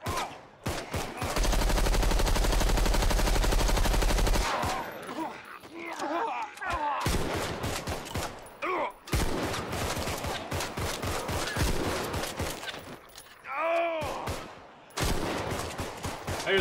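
Gunfire against zombies in the video game Contagion: a sustained burst of rapid automatic fire, then a run of scattered single and clustered shots, loud and close, with game sounds in the gaps.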